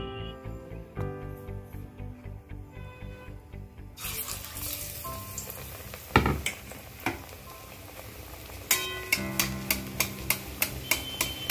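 Batter-coated eggplant fritters (beguni) frying in hot oil over a high gas flame, hissing sizzle that swells midway with a sharp splash and irregular ticking pops.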